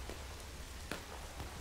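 Rain falls in the Civil War game War of Rights, a faint steady patter of drops on surfaces with a few slightly louder taps.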